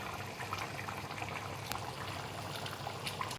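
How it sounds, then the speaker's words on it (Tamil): Thick tamarind drumstick curry (puli kulambu) bubbles and simmers steadily in a pot as it reduces, with small pops and gurgles throughout, fairly quiet and close. "இப்போ நல்லா சுண்டுற அளவுக்கு கொதிக்க விடுவோம்"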